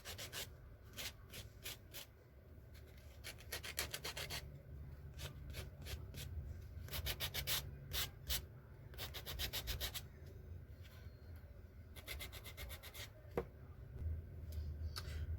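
Repeated short strokes of a nail file rubbing across fingernails during a powder dip manicure, close and steady, coming in quick bursts with brief pauses between passes.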